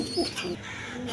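Pigeons at a market selling high-flying Giribaz and Kaldam pigeons with eggs and chicks give a brief, soft, nearby cooing among other bird sounds.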